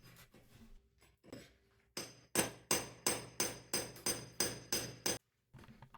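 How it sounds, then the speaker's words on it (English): A hammer strikes a concrete block basement wall to enlarge an opening for an escape window, with eight loud, sharp, evenly spaced blows ringing in steady rhythm, framed by quieter scraping and handling noises before and after. "I just had to pick up the hammer and get to work."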